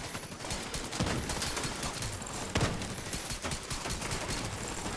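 Rapid pistol gunfire in The Division 2, a dense run of sharp shots with a couple of louder cracks, steady and close throughout with no talking.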